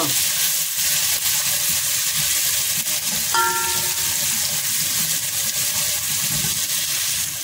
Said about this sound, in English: once your onions are a good crispy brown, throw in your garlic and mix it up like so